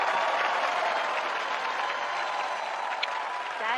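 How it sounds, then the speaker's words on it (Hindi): A studio audience at a TV comedy show gives sustained applause for actress Rekha. The clapping is a dense, even roar that holds steady throughout with no break. "एक बार जोरदार तालियां रेखा जी के लिए हो जाएं"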